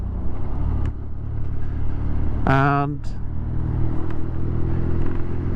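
Engine of a 2023 BMW Scrambler motorcycle on the move along a road, a steady low drone running through the whole stretch, with a rider talking briefly over it near the middle.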